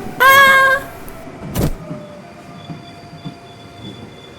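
A train pulling into a station, with a loud tonal horn or whistle at the start, a brief burst of noise, then a steady low rumble and faint sustained high squeal of wheels as it rolls in.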